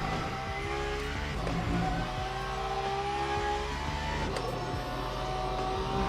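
A hypercar engine in Le Mans Ultimate at Imola drones steadily, with gear-change blips and revving bursts and a sustained mid-pitched note throughout, heard from the cockpit without talk.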